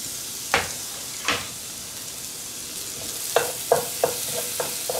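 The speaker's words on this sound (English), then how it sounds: "Melt the butter down. Add the shallot. This is 1 shallot minced." One minced shallot sautés in melted butter with a soft continuous sizzle, broken by a few sharp utensil scrapes and taps against the pan, close and with no talk.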